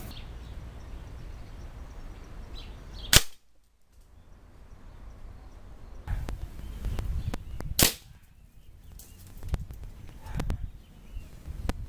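Air rifle fired from a standing position with Apolo and Gamo pellets, giving two sharp, loud cracks several seconds apart against quiet background noise, plus a few softer clicks and knocks in between.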